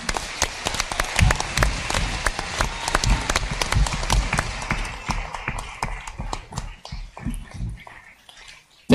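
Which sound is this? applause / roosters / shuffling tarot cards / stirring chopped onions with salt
applause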